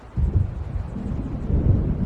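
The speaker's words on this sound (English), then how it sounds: "It seems there's a storm coming." Low, rolling thunder rumbles at moderate level from an approaching storm in the game Alan Wake, with a couple of swelling surges and no other sound.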